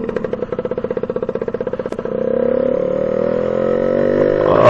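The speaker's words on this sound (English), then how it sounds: "it revs up quite quickly" A BGM RT240 Lambretta scooter engine with a tall five-speed gearbox and 4.6 primary drive chugs in a fast, loud pulsing beat, then revs up quickly into a smooth, rising steady drone, close by with no talk.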